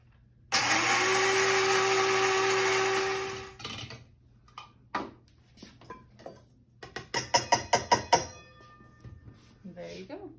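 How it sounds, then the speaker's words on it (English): An electric coffee grinder crushing dried herbs runs loud and close for about three seconds, a steady high whirring roar, then stops; clicks, taps and handling noises follow. "I'm going to use a coffee grinder"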